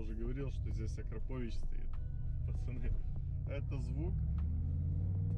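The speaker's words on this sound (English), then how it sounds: "turn on Sport Plus mode and immediately feel this wonderful exhaust" A 2022 Mercedes G63 4x4² with an Akrapovic exhaust in Sport Plus mode gives off a deep, steady idling rumble close by, heard beneath someone talking for most of the stretch.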